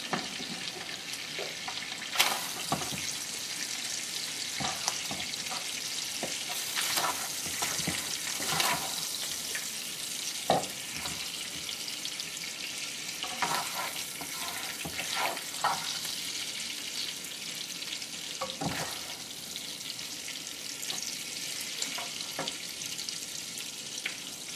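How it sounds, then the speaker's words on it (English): Sausage sizzling in a frying pan on the stove, a steady close crackle broken by repeated utensil scrapes and clatters as pieces are moved and lifted out. "I'm going to take about 4/5 of the sausage out of the pan"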